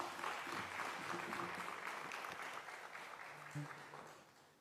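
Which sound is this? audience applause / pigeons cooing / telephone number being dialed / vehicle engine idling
audience applause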